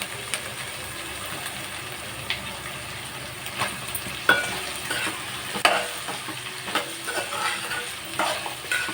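Drumsticks fry in hot oil with onions in a pan, making a steady loud sizzle with occasional stirring clinks and scrapes throughout. There is no talking.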